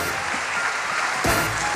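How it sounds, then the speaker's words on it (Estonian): Applause from a crowd at a Latin American dance championship, dense and steady for a dance couple, close and full, with no talk over it. "Ja suur aplaus paar number 195 Kirill Medjanov"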